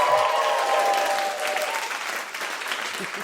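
Applause from a small audience on a feminist podcast: a burst of steady clapping that starts full and gradually thins and fades over a few seconds.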